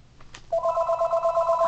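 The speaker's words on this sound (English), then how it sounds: "I'm not answering these loser freaking phone calls." Phone ringing with an incoming call, a close electronic warbling tone that starts after a short click and pulses steadily, with no voices over it.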